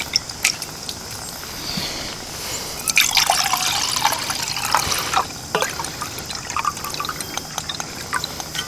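About 16 ounces of water trickles and splashes into a small pot on a Solo alcohol stove, a close, continuous pour that swells in the middle and tapers to drips, with no talk.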